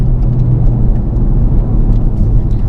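A 2018 Honda Civic Type R drops from fourth to third gear with rev matching, its engine a steady low droning rumble heard from inside the cabin, continuous and fairly loud with no distinct blip standing out.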